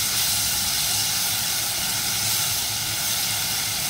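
Garlic and masala fry in a pan for a Kokni tarli fish salan with tamarind pulp, giving a loud, steady, unbroken sizzling hiss with no voices over it.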